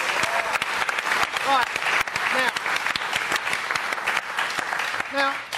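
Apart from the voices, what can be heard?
studio audience applause for Spurs fans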